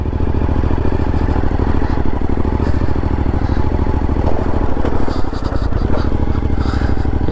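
A Suzuki V-Strom motorcycle climbs back up onto the road along Chile's Carretera Austral, its engine chugging steadily and close by for the whole stretch, with some light clatter over the top.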